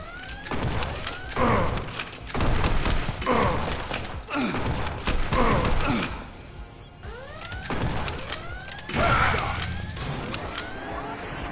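Gunfire in the shooting video game Rage Street, repeated loud bursts of shots and impacts with whooshing effects, continuing through most of the scene.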